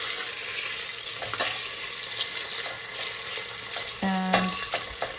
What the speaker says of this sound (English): Just go and stir it every once in a while.